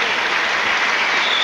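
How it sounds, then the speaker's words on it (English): A weightlifting crowd at the 2003 European Championships, 77 kg class, applauds a lifter's failed attempt: dense, steady clapping that fills the hall without a break. "the crowd appreciating the effort and understanding what he was trying to do"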